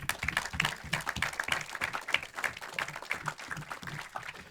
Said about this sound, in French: si vous avez applaudi, c'est que vous avez compris